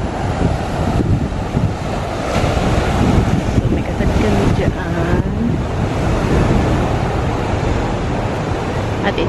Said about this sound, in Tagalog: lalaki ng alon, oh